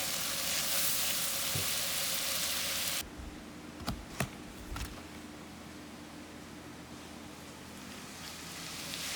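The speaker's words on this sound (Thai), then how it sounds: "ใส่เนยสดจืดลงไปนะคะ แล้วก็หอมหัวใหญ่สับค่ะ เราจะผัดให้หอมก่อน" Chopped onion sautés in unsalted butter, the start of a spinach cream spread for bread. A loud, steady sizzle fills the first few seconds, then drops to a quieter hiss with a few sharp clicks and scrapes from stirring.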